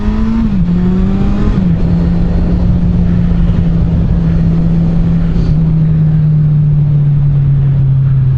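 A Kawasaki Z1000SX motorcycle engine runs loud and close, a steady droning idle after a brief blip or two of revs, holding an even pitch throughout.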